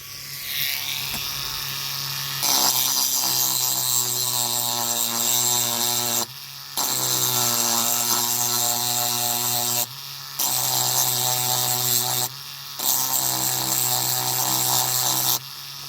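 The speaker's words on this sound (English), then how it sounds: "Let's grind some more off." A powered grinder takes metal off a diecast Corgi toy racing transporter. The harsh, whining buzz comes in three long bursts with brief pauses between them, loud and close, with no voices.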